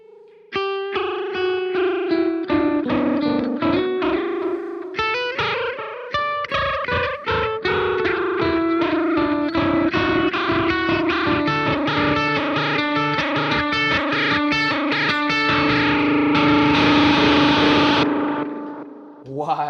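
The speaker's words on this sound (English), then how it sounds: "That is definitely a cool setting for a delay pedal." A Blank Electronics Reaching ambient delay pedal set to full rate turns a guitar into a dense, warbling wash of repeating echoes with a wobbling, chorus-like pitch, sustained loud and unbroken until it fades at the end.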